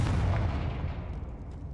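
A Confringo spell blast in the Hogwarts Legacy video game, a heavy booming explosion that hits loud at the start and rumbles away over under two seconds, with no voices.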